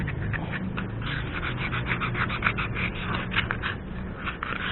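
A shoe surface is sanded by hand to roughen it before gluing, giving a continuous, close rubbing scrape with a rhythm of repeated strokes. No voices are present.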